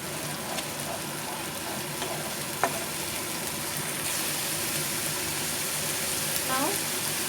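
Chicken gravy masala is stirred in a pan over medium flame, giving a continuous loud sizzle with occasional scraping and a few sharp clinks of the spoon against the pan.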